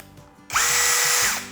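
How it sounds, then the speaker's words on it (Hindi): An INGCO cordless drill in normal drill mode spins up sharply after a brief quiet start, then holds a loud, steady whine close by until it winds down at the end. "सबसे पहले मिलेगा आपको ड्रिल का, नॉर्मल ड्रिल का, ये वाला"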